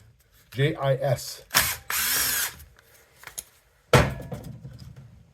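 A socket wrench ratchets bolts loose on a 1970 Honda CT70 trail bike: a few close, loud bursts of rapid clicking separated by pauses, with a brief voice early on.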